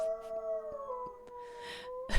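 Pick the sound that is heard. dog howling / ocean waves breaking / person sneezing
dog howling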